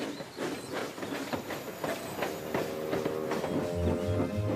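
Toy steam train engine puffing along in a Thomas and Friends style scene, steady rhythmic chuffs and clattering over track with hissing steam, fairly close and continuous with no speech.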